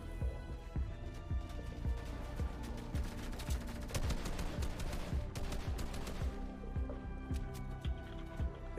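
Dense, continuous gunfire from a Fortnite match at a competitive FNCS grand final, rapid overlapping shots and bursts with sharp transients throughout, loud and busy with no pauses.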